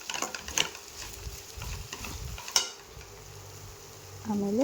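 Peanuts frying in a pan, a soft sizzle with a few clattering knocks of stirring and a brief rising tone near the end.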